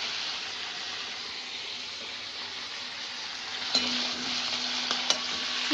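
Shrimp sizzle and hiss steadily in a hot pan with oil, a couple of sharp stirring clicks near the end.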